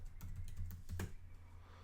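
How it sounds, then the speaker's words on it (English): A short burst of quiet keystrokes as a password is typed on a computer keyboard, a few soft clicks over a low steady hum. "Have to type in your password."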